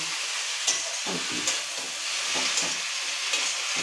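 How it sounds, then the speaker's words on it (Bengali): Red amaranth greens fry in oil with nigella seeds in a pan over a high gas flame, giving a steady close sizzle broken by regular clacks and scrapes of stirring, with no voices. "লাল শাকটা ভাজা হচ্ছে"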